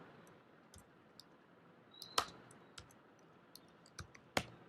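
Faint, sparse clicks from a computer keyboard during a Command-D shortcut and typing, with about half a dozen irregular taps, two of them sharper, over a quiet background.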